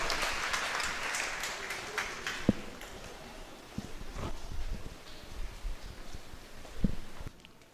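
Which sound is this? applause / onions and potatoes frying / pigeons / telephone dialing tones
applause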